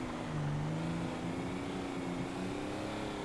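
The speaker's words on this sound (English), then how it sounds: "Your truck is so loud." A loud truck engine drones steadily from inside the cab while driving, a constant low rumble with slight pitch shifts as it pulls along, with no talking.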